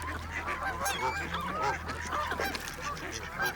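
A flock of geese and ducks at Webster Pond honks and calls continuously, many overlapping nasal honks close by, loud and busy throughout, with a low steady hum underneath.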